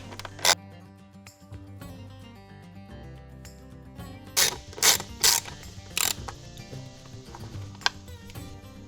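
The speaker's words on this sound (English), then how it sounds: "with this, we're going to use an 8mm socket" An 8mm socket on a hand ratchet loosens the air filter cover bolts on a Jeep Wrangler JL, with short bursts of rapid clicking separated by pauses over faint background music.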